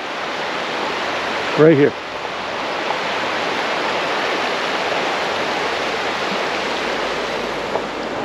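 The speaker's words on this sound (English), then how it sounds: "This is the Moose River right behind us." Rushing water of the Moose River flows steadily right behind a Vermont campground, a loud, continuous broadband roar with a brief voice speaking over it near the start.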